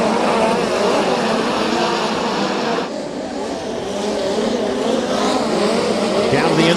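USAC midget race cars lapping a freshly tilled dirt track, a loud continuous roar of engines screaming past with shifting pitch, a brief dip midway before the pack surges back, no talk over it.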